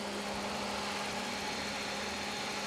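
A Toyota Mark II car engine runs steadily at idle, a close, even mechanical hum with a low rumble and no speech.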